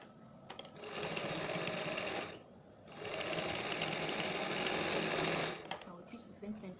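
A sewing machine stitches a dress seam at a half-inch allowance in two steady whirring runs, each lasting a couple of seconds, with a short pause between them. The sound is close and fairly quiet.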